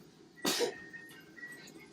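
A single short, sharp sneeze bursts out in a quiet room, followed by faint low background sounds.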